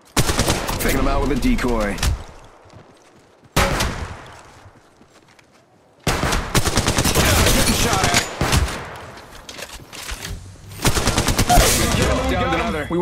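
Bursts of rapid automatic gunfire and shots from the mobile battle royale game Apex Legends Mobile, loud and close, arriving in several clusters separated by short lulls, with a player speaking briefly over the action.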